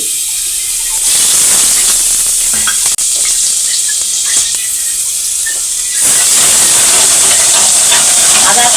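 Ginger frying in soybean oil in a pan gives a loud, dense hissing sizzle that surges sharply after a second, holds with faint stirring scrapes and a single clack, then swells again near the end.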